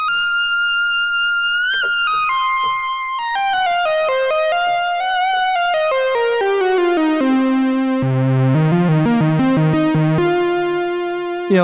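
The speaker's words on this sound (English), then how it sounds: "where the Alpha Juno really falls short is in lead sounds like this" A Roland Alpha Juno synthesizer plays a mono lead patch, a bright, buzzy melodic line of gliding and stepping notes that descends into a thicker low register. It sounds loud and steady, with no voices.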